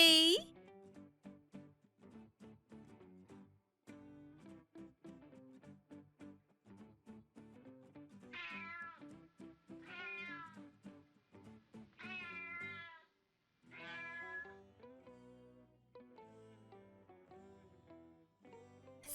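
A small kitten meows repeatedly in short, high cries, close and clear, with brief pauses between calls.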